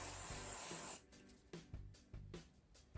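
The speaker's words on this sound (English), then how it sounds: "Use the root spray when you use the bigger barrel." Root hair spray hisses onto hair in one steady close burst lasting about a second, followed by soft rustling and brushing sounds of handling.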